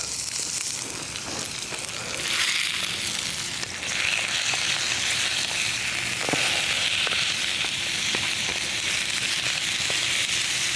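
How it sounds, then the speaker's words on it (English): Steak sizzles loudly in a hot frying pan outdoors in woodland, a continuous close hiss with scattered crackles and pops throughout. "You can hear the sizzle."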